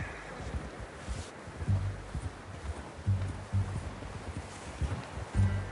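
A horse's hooves clip-clop at a steady walking rhythm in Red Dead Redemption 2, low and fairly close, alongside faint rustling and wind.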